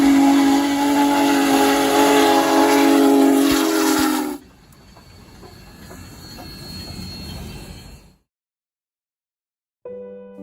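Union Pacific Big Boy 4014 steam locomotive pushing a freight train uphill, a loud steady roar with whistle-like tones that drops abruptly to a quieter rumble, then silence before a brief return.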